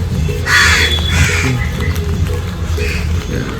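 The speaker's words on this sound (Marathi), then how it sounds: "हे कावळे खाती राहतात. हे बघा." Several loud crow caws ring out near during a morning workout, harsh and repeated, with a rumbling background and a faint voice underneath.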